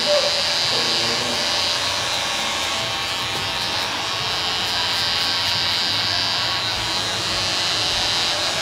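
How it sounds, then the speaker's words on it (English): A Flame Line Pro electric hair clipper runs continuously up close for a mid bald fade haircut, giving a steady, even buzz with no pauses. "I'm going to use my flame line pro one more time"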